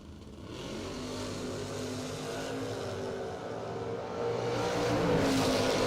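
Drag race cars at a bracket race, including the Greg Hines Racing Camaro, roar steadily at a distance, engine noise building louder toward the end.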